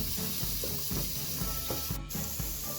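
Chicken masala powder and turmeric sautéing in a pan for salna, a soft continuous sizzle with repeated rhythmic scraping strokes of stirring, close and fairly quiet.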